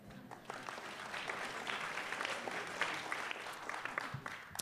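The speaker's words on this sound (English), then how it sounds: "You should give yourselves a hand." Audience applause at a Traverse City film festival panel, a sustained round of clapping from a seated crowd lasting several seconds, moderately loud with dense overlapping claps.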